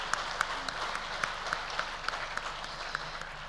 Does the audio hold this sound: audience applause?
yes